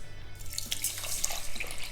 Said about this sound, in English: I take the 1 can of coconut milk and then I add enough water to make 4 cups